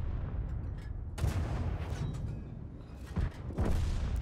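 Booming artillery and cannon fire in World of Tanks, several heavy blasts landing irregularly over a rumbling low-end battlefield background, with the loudest hits near the start and end.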